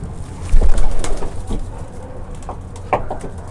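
Racing pigeons cooing in a loft: soft, low murmured coos repeat irregularly at close range, with a few brief rustles and clicks.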